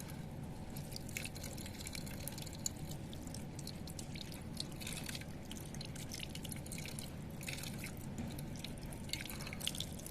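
Hands being washed in a bucket of water, a steady low sloshing with scattered small drips and splashes running continuously at low level, no voices present.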